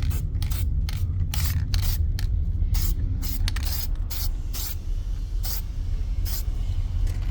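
An aerosol can sprays paint onto the valve cover of a 2016 Fiat 500 Abarth in a steady hiss, broken by repeated short bursts, over a constant low background rumble.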